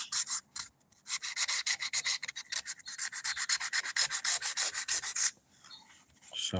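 Rapid rhythmic rasping of 80 grit sandpaper scrubbing back and forth on boat gelcoat, close and steady, with a brief pause near the end.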